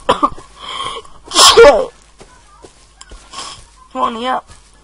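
Several bursts of human vocal sound, one loud sneeze-like burst in the middle, with other shorter vocal bursts before and after, close and fairly loud.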